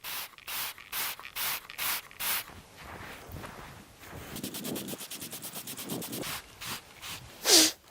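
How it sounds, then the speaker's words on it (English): Scent killer clothing spray misted onto hunting outerwear: a run of short, evenly spaced hissing bursts, then a longer, rougher stretch of spraying and rubbing, ending on one loud close puff. "we're going to be spraying it libertarianly on our outerwear."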